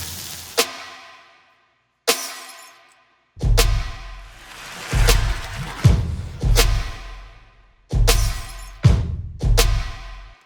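Drum loop layered with kick, clap, shattering glass and fire foley: sharp cracks and smashes trigger in a rhythmic pattern, heavy low booms swell beneath several hits, and short decaying tails sit between the punchy strikes.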